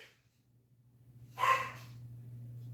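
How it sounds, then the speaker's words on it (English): A single sharp bark from a dog indoors, near and brief, over a low steady hum, with quiet breathing sounds before it. "Pardon my dog, yo."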